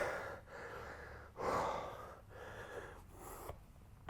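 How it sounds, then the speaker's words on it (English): Heavy, effortful breaths with gasps and snorts between sets of weightlifting, a few loud exhales in a steady rhythm, close to the microphone with no talking. "Couple of breaths."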